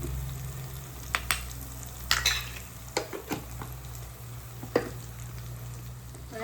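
Fish frying in oil sizzles softly and steadily up close, while a utensil stirs and clinks against the pan in scattered sharp knocks and scrapes; no voices.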